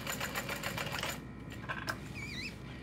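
A sewing machine runs a fast, steady stitching burst through a bowler bag for about a second, then stops, leaving quieter mechanical clicks and a faint whir.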